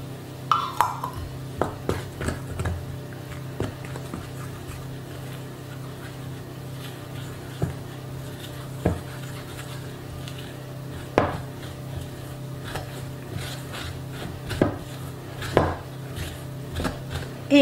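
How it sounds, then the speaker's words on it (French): A wooden spoon mixing cookie dough for chocolate pecan cookies in a bowl, giving irregular soft knocks and scrapes against the bowl, moderately close, with a steady low hum behind. "On commence à mélanger. Avec une cuillère en bois, c'est plus facile"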